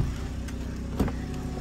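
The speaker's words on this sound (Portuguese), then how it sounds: "Ele ligou o carro" A car engine runs steadily up close with a low rumble, and a brief louder bump partway through. The clip is under two seconds long and no one speaks over it.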